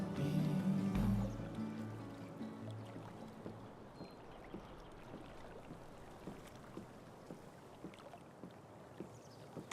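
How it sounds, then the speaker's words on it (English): Kayak paddling on water in the video game Life is Strange: True Colors, gentle rhythmic dips and swishes at a steady pace over a soft watery wash, with a brief louder swell at the start. "If not for the paddling, kayaking would be super relaxing."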